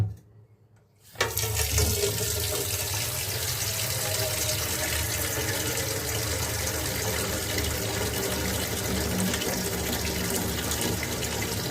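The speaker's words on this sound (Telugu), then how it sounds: "ఫస్ట్ దీంట్లో కొంచెం వాటర్ యాడ్ చేయాలి." After a brief quiet moment, water gushes steadily into a metal idli steamer pot, a loud, continuous splashing stream that holds evenly to the end.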